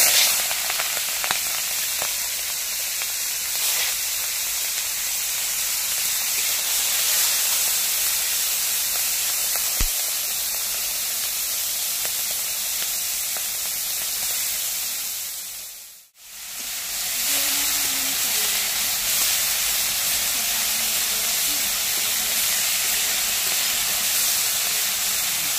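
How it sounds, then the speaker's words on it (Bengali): Prawns frying in hot mustard oil in a kadai give off a steady, close broadband sizzle that runs without a break, dipping to near silence for a moment partway through before resuming at the same level. "তেল গরম হয়ে গেছে, এবার চিংড়ি মাছগুলো ছেড়ে দেবো।"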